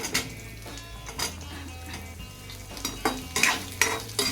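Onions frying and being stirred in a pan with cumin seeds, garlic and dried red chillies for an onion chutney, a steady close sizzle with scraping stirs and a few utensil knocks, strongest near the end.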